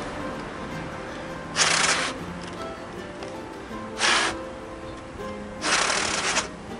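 Three separate breathy whooshes of breath blown onto a spinning paper origami cube, each about half a second long, close and soft over a low room hum, with no speech.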